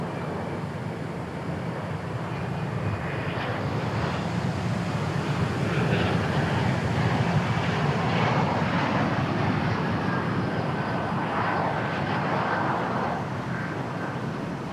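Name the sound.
airplanes taxiing at Dallas Fort Worth airport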